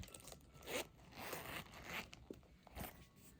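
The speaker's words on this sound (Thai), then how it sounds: "ซิปนี่แบบรูดปื๊ดรูดปื๊ดนะคะง่ายมากทุกคน" The zipper on a DKNY wallet is pulled in a few quick, close, faint rasping strokes, with short pauses between them and no talking.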